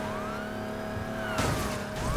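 Police car siren in the racing game Need for Speed Heat, a wailing tone rising and falling over engine noise, with a sudden louder burst of engine and collision noise near the end.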